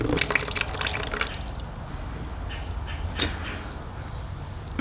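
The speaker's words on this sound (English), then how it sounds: "once that radiator cap comes off, you can see it'll just start draining right out" Coolant draining out of a WR250R motorcycle radiator after the cap is removed, heard as a steady, close trickling and dripping flow that continues without speech.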